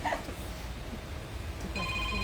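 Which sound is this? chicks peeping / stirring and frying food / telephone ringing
telephone ringing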